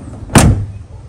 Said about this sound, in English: that door barely closes